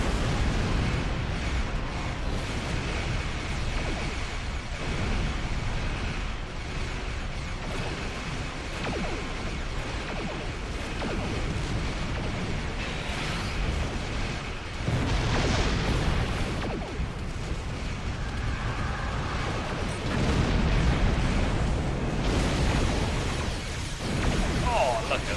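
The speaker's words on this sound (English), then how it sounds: "Torpedo." Torpedo explosions in the Star Trek Online space battle game, heavy booming blasts and rumbling impacts running continuously and loud over a dense wash of noise, with a voice talking over parts of it.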